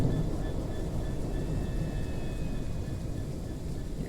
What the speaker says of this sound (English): I did see that other train coming.